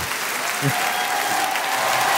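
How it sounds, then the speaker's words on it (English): Crowd applause sound effect of steady clapping that fills the short stretch at an even level, with a faint voice briefly audible beneath. "The crowd goes wild."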